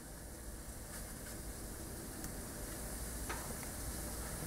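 Fish searing on a hot AGA cast aluminium griddle gives a faint, steady sizzle throughout, with a few soft ticks rising above the hiss and no talking.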